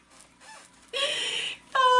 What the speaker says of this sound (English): forgive my bird.